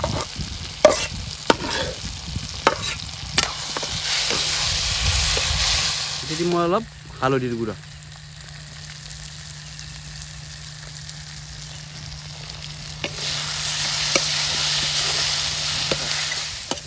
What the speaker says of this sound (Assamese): মছলা মানে আলু বিলাহীখিনি পুৰা ভাজি আছোঁ